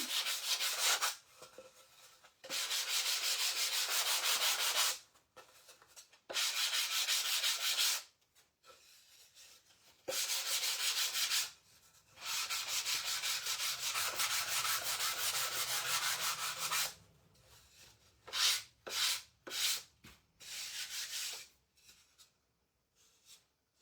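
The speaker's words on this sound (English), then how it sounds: "I can sand this one down" Sandpaper rubbed over a wooden pet memorial frame in long, even scratchy strokes of a few seconds each, separated by short pauses, then a run of quicker, choppier passes near the end.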